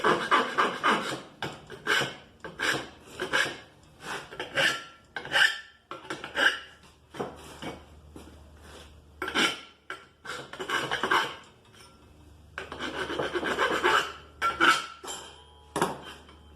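Metal burrs are filed off in irregular bursts of close scraping and rasping strokes separated by short pauses, fairly quiet with scattered light metallic clinks.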